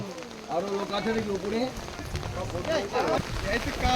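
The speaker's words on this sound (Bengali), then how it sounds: "বৃষ্টি চালের উপর মানুষের মাথায় বৃষ্টি পড়ছে" Steady rain patters and hisses on a poor thatched roof in the Sundarbans while several voices talk loudly over it throughout.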